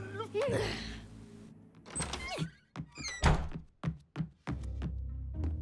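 A door opens in an animated scene, giving a sharp thunk followed by several short knocks and clatters, with character voices talking over and between the sounds.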